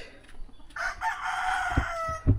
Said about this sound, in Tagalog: Ay, yung mga ibang manok na nakakulong.